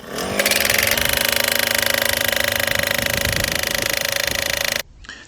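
A gas-powered post pounder drives a steel T-post fence corner post with loud, rapid, steady hammering that runs for about four seconds, then cuts off abruptly.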